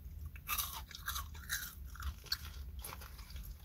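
Loud, close crunches as teeth bite into a Popeye's Buffalo Ranch fried chicken sandwich, followed by crisp chewing, with about four distinct bites in a row and no talk.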